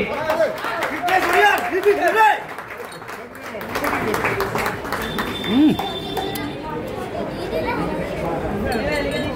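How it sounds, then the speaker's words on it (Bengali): Audience at an iron lifting competition on an open-air stage clapping loudly together, a dense burst of applause mixed with crowd chatter and voices talking over it. "সবাই জোরে হাততালি।"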